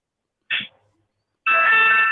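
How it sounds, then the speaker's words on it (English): Bells ring in the background of a live garage show: a short bright ring, a pause, then a sustained, louder resonant ringing that rings on to the end. "Who's playing the bells back there?"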